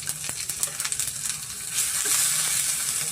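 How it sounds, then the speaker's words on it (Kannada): Mustard seeds and cumin sizzling in hot oil while cooking a prasadam recipe, a steady crackling fry with small pops, rising into a louder hiss near the end, with no voices over it. "ಇವಾಗ ನಾನು ಸ್ವಲ್ಪ ಸಾಸಿವೆ ಸೇರಿಸ್ತಾ ಇದ್ದೀನಿ, ಸ್ವಲ್ಪ ಜೀರಿಗೆ ಸೇರಿಸ್ತಾ ಇದ್ದೀನಿ ನಾನು"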